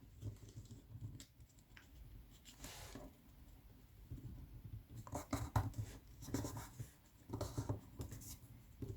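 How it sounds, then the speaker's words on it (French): Paper being folded and creased for origami butterfly wings: soft, close crinkles, rustles and scrapes in irregular bursts, quiet and without any speech. "Ensuite, on va plier la petite partie droite vers le centre."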